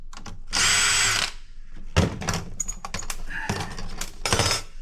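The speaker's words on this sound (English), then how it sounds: "let's get those screws off there" A power drill backs screws out of a telecom peripheral board, with one sustained whir followed by several short bursts mixed with clicks and rattles from handling the metal parts.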